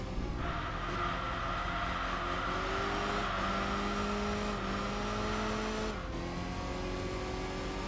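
Turbocharged inline-four Saab engine in a racing video game, droning loud and steady as it climbs through the revs, with a brief drop and shift near the end.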